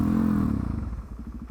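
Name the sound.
motorcycle riding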